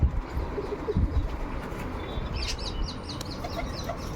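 Wild pigeons coo and flutter near a home pigeon loft, with soft coos and clucks over a steady outdoor background hum.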